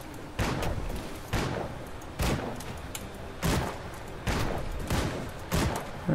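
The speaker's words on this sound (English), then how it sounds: "Shooting gravestones." Gunfire from the action RPG Grim Dawn as gravestones are shot, six heavy booming blasts at roughly one-second intervals, each with a long ringing decay, loud and close with no talking.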